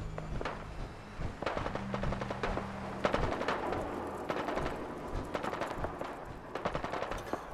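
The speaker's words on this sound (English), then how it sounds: "There's too much gunfire." Machine gun fire in the video game Fallout 4 rattles in quick bursts and scattered shots, moderately quiet and somewhat distant, with irregular gaps between volleys.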